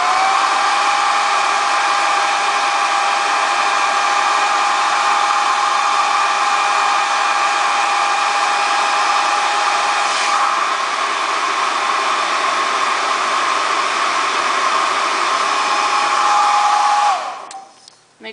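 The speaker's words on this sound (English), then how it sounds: "Make sure you put the blow dryer on the ends like on the same spot for a while" A blow dryer blasts a steady, loud whoosh for a long stretch while heating and melting the ends of synthetic dreads, then switches off abruptly at the end.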